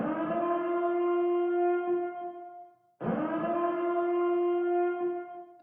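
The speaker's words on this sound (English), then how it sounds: "let's hit the spoiler siren" A wailing siren sound effect played as a spoiler warning, two long loud rising-and-holding blasts, each swelling up then sustaining a steady tone before cutting off.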